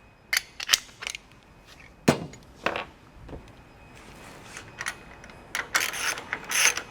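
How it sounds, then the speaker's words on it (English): Hardware on the feet of a Werner ladder being broken loose and removed, giving sharp metallic clicks and ratcheting snaps in irregular bursts, close and fairly loud against quiet room tone. "break loose and remove the feet from the ladder"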